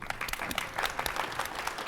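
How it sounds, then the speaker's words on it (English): An audience claps steadily and densely throughout, with no break, while presenters are introduced at a tech company's social VR talk. "You can applaud for each of them."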